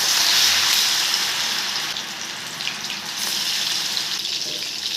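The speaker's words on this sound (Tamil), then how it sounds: "அதில் கொஞ்சம் கொஞ்சமாக போட்டு பொரித்து எடுத்துக்கலாம்." Marinated prawns dropped into hot oil for prawn Manchurian, giving a loud, dense bubbling hiss of deep frying that eases slightly and then swells again, steady throughout with no talk.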